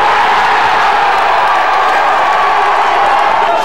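A packed stadium crowd roars continuously after Shearer's penalty makes it 1-1 for England against Argentina in the 1998 World Cup, a loud, dense wall of cheering with no breaks.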